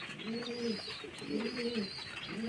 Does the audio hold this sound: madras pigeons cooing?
yes